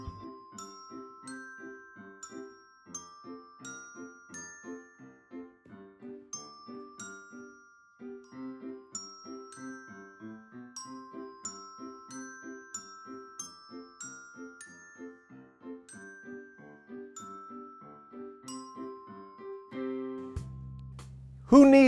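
A bell-like tone is struck on purpose in a repeated, rhythmic musical pattern of clear ringing notes, steady and fairly close, ending in a sudden louder thump.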